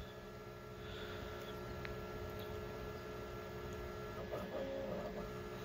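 A Centroid Acorn CNC lathe running an automatic tool touch-off cycle: a steady mechanical hum with faint whining tones and small clicks, then a brief rise in motor noise near the end.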